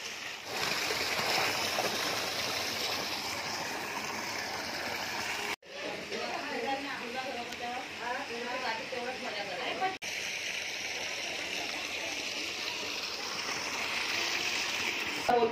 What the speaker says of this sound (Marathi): इथे मस्त छोटासा धबधबा पण आहे